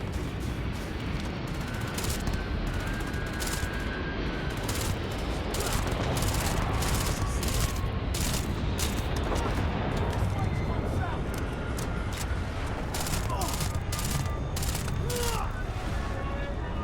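Gunfire in the space game Starfield, a dense steady barrage of sharp shots and impacts running throughout at a constant loud level, with a voice talking over it.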